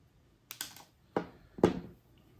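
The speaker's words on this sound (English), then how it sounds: "Let's snip it off here." Wire cutters snip through thin wire during an LED lighting upgrade on an old Athearn PA-1 model locomotive, giving three quiet, close clicks in a hushed room.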